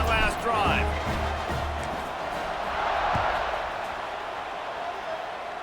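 Football stadium crowd at a CFL–UFL spring game roaring after a touchdown drive, a broad, steady wash of cheering heard from a distance under a commentator's voice.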